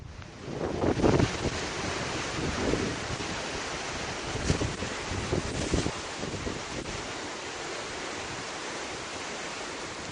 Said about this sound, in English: There's a 20-second video of just a beach.